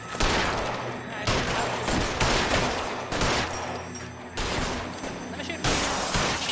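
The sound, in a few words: gunfire in the video game LA Noire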